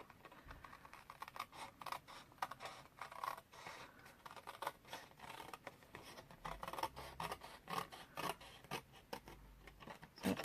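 Scissors cut paper card for a pop-up gift card wallet, a faint, close, continuous run of small snipping and rasping sounds with no voice over it.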